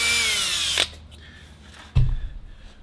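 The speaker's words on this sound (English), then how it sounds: "Your very first drill in is going to be a very small drill bit." A small drill bit boring out a cylinder head exhaust stud, one close, steady high whine of the power drill that stops abruptly, followed by a brief clunk near the end.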